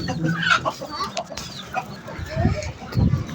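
Hens cluck in short, scattered calls close by in hot weather, with a voice talking intermittently among them.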